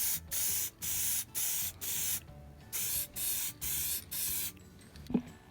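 Rattle can of spray paint laying down a third coat, eight even hissing bursts of about half a second each with short gaps between, ending with a faint knock.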